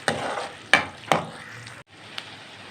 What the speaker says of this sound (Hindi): इस जो घी है इसमें हम 1 प्याज डाल देंगे